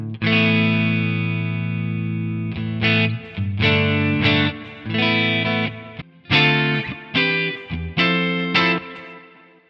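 Electric guitar played through a Soldano amp plugin on its crunch setting at low gain, giving mild breakup: a sustained chord rings out, then a run of rhythmic chopped chords with short gaps, loud and up close, no talking.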